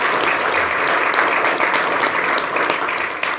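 Dense, steady applause from a studio audience on a French talk-show set, a loud continuous wash of many hands clapping for the full length with no pauses.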